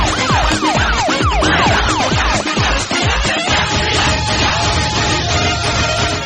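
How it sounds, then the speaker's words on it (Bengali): An ambulance siren blares loud and close. Rapid rising-and-falling wails for about three seconds give way to a steadier sustained tone, with no voices. "তো অ্যাম্বুলেন্স।"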